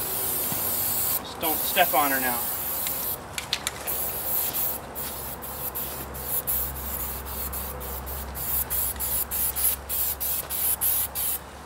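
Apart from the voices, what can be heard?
spray lubricant aerosol spraying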